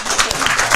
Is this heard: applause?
yes